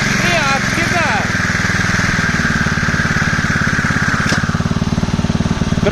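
Champion LMH 5640 wheeled string trimmer with its small petrol engine running hard, a loud, steady, buzzing rattle at close range that holds its pitch throughout, with someone talking over it near the start.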